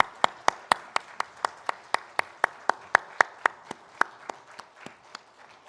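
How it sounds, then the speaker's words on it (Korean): Rhythmic clapping from a church congregation during a Sunday worship service, in steady unison, about four claps per second, sharp and moderately close, gradually tapering off toward the end. "하나님께 영광의 박수 함께 올려드리겠습니다."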